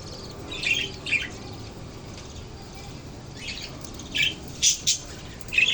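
Pet parakeets give a few short, bright chirps in scattered bursts, some close together, over a steady low background hiss.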